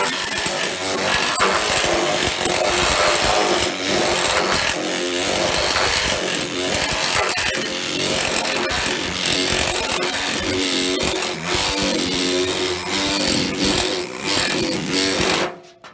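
OX planishing hammer shaping sheet metal, a continuous loud, fast machine-gun-like rattling of steel hammering steel that holds steady for the whole stretch and stops abruptly at the end.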